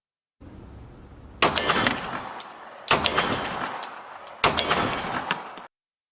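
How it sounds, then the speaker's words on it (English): A Taurus GX2 pistol fired at a shooting range, three separate loud sharp reports spaced about a second and a half apart, each trailing off over steady background noise. "I was excited to take this back out to the range and shoot with it."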